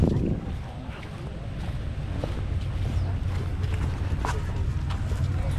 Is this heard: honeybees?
no